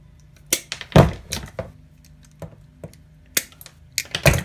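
Wire strippers, including Klein, Harbor Freight, Southwire and Milwaukee models, snipping through solid wire: a handful of sharp, separate clicks and snaps at irregular intervals, close up and crisp against a quiet background.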